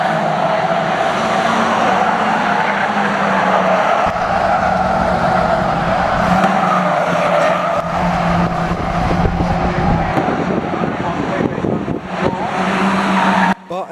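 Race cars at Cowdenbeath Racewall roar continuously with a droning engine note that rises and falls, with occasional gritty tire scrubbing as they jostle close together, loud throughout and briefly dipping near the end.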